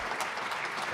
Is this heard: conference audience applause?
yes